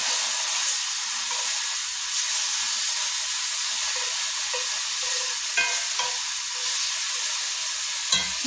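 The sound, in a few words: butter melting and sizzling on a hot griddle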